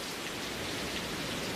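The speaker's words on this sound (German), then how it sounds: "Es fängt an zu regnen." Steady rain falls as a radio-play sound effect, a dense even hiss of drops on a surface that stays constant throughout.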